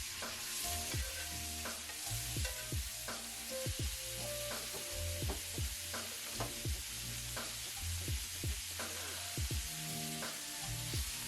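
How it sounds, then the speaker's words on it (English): Pork chops searing in a pan, a steady close sizzle with repeated rhythmic scraping and stirring sounds throughout, no voices. "Going back in with my pork chops."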